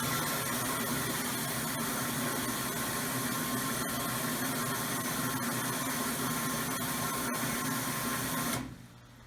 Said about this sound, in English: I'm going to turn on the pump.